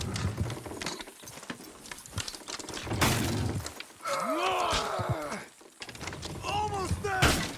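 Horses in the video game Red Dead Redemption 2, clopping and whinnying amid cinematic creaks and crashes of a wagon scene, with game characters talking over the action.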